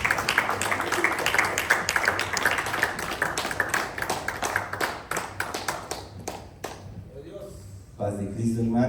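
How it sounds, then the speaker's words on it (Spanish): A church congregation claps for the Lord in dense, rhythmic bursts that thin out toward the end, with a voice speaking over the clapping near the close. "Denle palmas al Señor."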